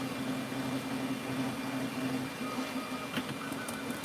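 A 3D printer runs a print of a Gridfinity ring holder and box, giving a steady close mechanical hum with a constant tonal drone and faint stepper-motor whine, with a few brief clicks near the end.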